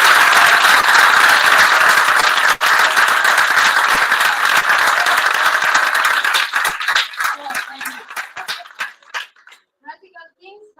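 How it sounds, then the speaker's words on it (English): Audience applause at the EWWR 2022 awards ceremony, loud dense clapping that thins into scattered claps and fades out toward the end. "And a big clap to Serena."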